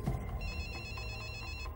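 A mobile phone rings inside a jacket pocket, its electronic ringtone repeating in a steady, fairly quiet pattern of chiming tones.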